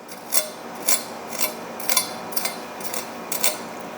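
A knife saws through a crusty dry-brined picanha steak. About eight crisp, scratchy rasps come in a steady rhythm, close and clear, with no talk.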